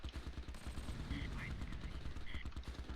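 Rapid gunfire and machine-gun bursts from the Close Combat Arnhem war game rattle continuously, dense and loud throughout, with a few higher pings over the rolling shots.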